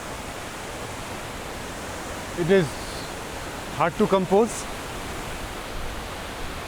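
Tall waterfall cascade in Meghalaya roaring steadily from a bridge over the river below, a constant broad rush of water with someone talking briefly over it.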